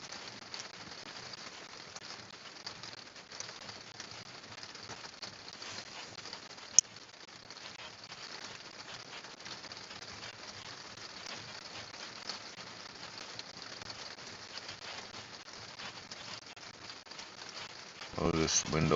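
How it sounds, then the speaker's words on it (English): Steady rain patters outside a window, a soft continuous hiss of drops that grows heavier near the end, with one sharp knock partway through. "That's just rain."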